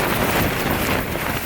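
Strong storm wind buffets and flaps against a tent's fabric, a continuous roaring rush that swells slightly and stays loud throughout.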